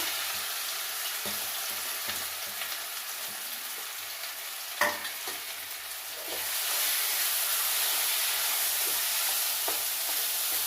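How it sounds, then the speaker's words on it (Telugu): Bread pakoda stuffing frying in hot oil, a continuous close sizzle with occasional stirring scrapes that grows louder and denser toward the end, no speech. "నూనెలో బాగా వేగాలండి, పచ్చివాసన పోవాలా"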